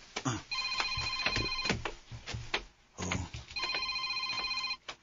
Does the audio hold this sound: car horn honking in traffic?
no